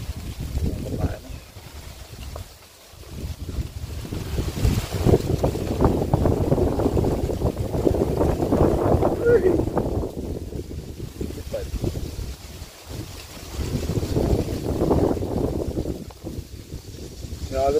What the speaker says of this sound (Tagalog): pag ganyan po kalakas ang hangin, sakit na po sa tenga mga kabayan